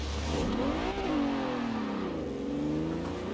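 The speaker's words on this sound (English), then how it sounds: "even with full revs, it still just wants to bog off the line" A 1950s Plymouth Fury in Forza Horizon 4 revs hard at the start line on a race track, a loud sustained engine note rising and falling as it bogs off the line, with no speech.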